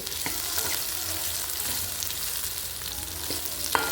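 Pepper, cumin, cinnamon, fennel and poppy seeds fry in oil for a Tamil country chicken curry: a close, steady sizzle with occasional stirring clicks and no voices.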